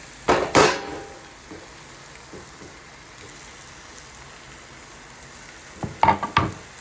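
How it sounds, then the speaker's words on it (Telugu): Mushrooms fry in oil in a pan with tomato for a curry, giving a soft continuous sizzle with two louder bursts of stirring or tossing near the start and end, close by. "ఒక్కసారి మష్రూమ్స్ కూడా దీంట్లోనే ఫ్రై చేసుకుని ఆయిల్లో"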